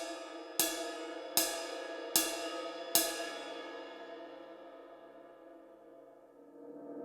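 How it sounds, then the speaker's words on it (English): Four evenly spaced metallic cymbal strikes, each a bright ping with a long shimmering wash that fades slowly into quiet. "Next one's going to be the ride cymbal."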